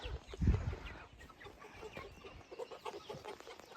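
Young pullets cluck softly in a chicken run, one louder burst near the start followed by quieter scattered clucks and low fowl murmurs nearby.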